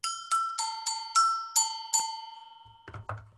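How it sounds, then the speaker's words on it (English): A Brazilian agogô bell is struck about seven times in an even rhythm, two bright metallic pitches alternating and ringing briefly, followed by a couple of duller knocks at the end. "This is a Brazilian bell."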